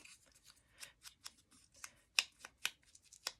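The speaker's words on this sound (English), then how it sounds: "I just wanted to cut a couple of circles" Scissors snip paper circles for a Christmas craft tag in a series of quick, crisp, close cuts spaced irregularly across a few seconds, with a quiet background and no voices.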